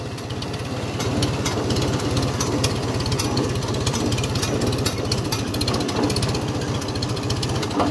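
A cold Farmall 350 tractor runs with a Woods 208 cutter, its engine putting out a rapid, heavy, even chugging beat, loud and close, with a clattering mechanical rattle above it and no talk.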